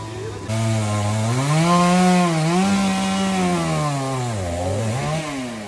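A fire force crew cutting tree branches with a chainsaw, the engine droning loud and close, its pitch rising and dipping as the blade bites into the wood, running steadily throughout.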